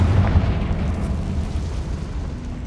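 Confringo fire spell explosion in the video game Hogwarts Legacy, a loud low booming blast at the start that rolls into a sustained rumbling roar over nearly three seconds.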